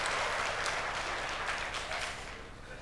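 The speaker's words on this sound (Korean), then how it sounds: "영광의 박수 드리겠습니다." Audience applause, a dense, steady clapping from a crowd that stays strong and then begins to fade toward the end, with no talk over it.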